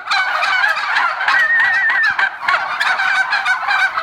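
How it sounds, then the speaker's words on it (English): A flock of turkeys gobbles and honks continuously up close, many overlapping calls forming a loud, busy chorus. "So I said I'd show you the turkeys, so here they are"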